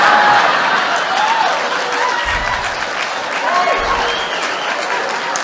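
Audience applause at a recovery speaker meeting, dense steady clapping that fills the room from start to finish, with a voice speaking faintly underneath.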